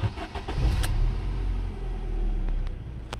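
A Ford Focus 1.6 Flight engine starts and settles into a steady low idle rumble, close and continuous, with a few light clicks over it.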